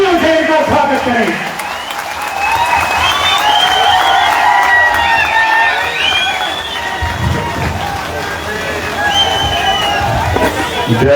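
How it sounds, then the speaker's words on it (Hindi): Crowd applauding and cheering at a political rally in Madh, loud sustained clapping mixed with shouts and whistles, steady throughout at close range. "तालियों से इनका स्वागत करें।"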